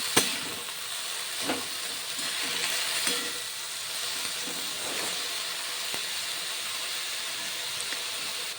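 Fenugreek greens cooking in a pan, a steady soft hiss and sizzle with occasional light scrapes and taps of stirring.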